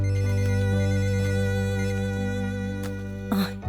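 A phone ringtone plays a steady, tonal electronic melody, fairly loud and close, ending with a brief noisy rustle.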